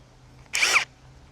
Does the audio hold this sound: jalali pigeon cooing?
no